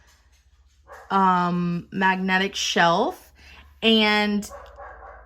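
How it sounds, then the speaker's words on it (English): Several dogs bark outdoors in loud, repeated bursts with a whimpering yip among them, close enough to dominate the moment, with someone speaking briefly underneath and between the barks. "my dogs are barking outside"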